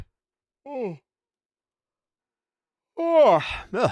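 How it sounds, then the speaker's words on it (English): A man gives a big, drawn-out yawn late at night, a loud breathy voiced groan near the end, with a short vocal murmur earlier and silence between. "Big yawns."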